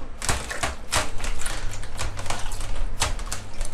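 Raw three-layer pork belly kneaded and rinsed with vinegar in a Thai kitchen, heard as steady wet squelching and slapping with repeated sharp splashy bursts, close and fairly loud, with no talking.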